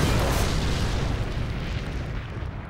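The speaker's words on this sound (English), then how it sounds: "The tank would blow up." A WWI tank blowing up, heard as a heavy, sustained rumbling blast that fills the clip and slowly fades, loud and close with no voices.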